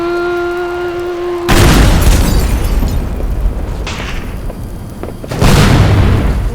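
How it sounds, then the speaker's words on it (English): Two heavy booming explosions from a guided missile blowing up tanks in the game Teardown, each a loud blast with a long rumbling tail, the second arriving about four seconds after the first. "it's time to get out our guided missile to blow up these tanks"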